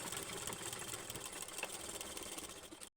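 A sewing machine stitches cloth for a bag, a steady, quiet mechanical whir that runs evenly for a few seconds and then cuts off abruptly. No voices.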